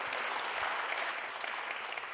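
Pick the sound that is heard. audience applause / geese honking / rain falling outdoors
audience applause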